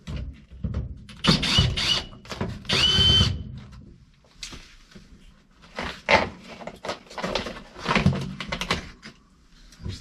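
A power driver whirs in repeated short bursts while backing screws out of a car's headliner trim, with thunks and handling noises between the runs.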